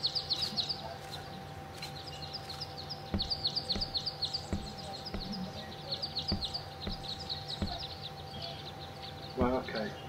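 Many birds chirp and tweet in quick, busy bursts through a game world in Uncertain, a steady chorus under low ambient hum with a brief louder flutter near the end.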